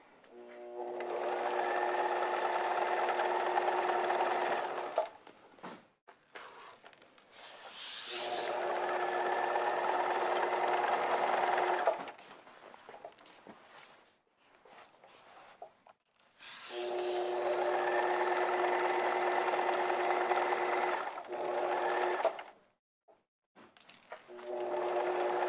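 A sewing machine stitches a pair of pants in three long, steady, loud runs, separated by short pauses filled with fabric handling.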